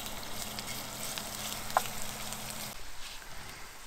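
Morel mushrooms frying in vegetable oil give off a steady, fairly soft sizzle with light crackle and one brief pop, the hiss dropping a little near the end.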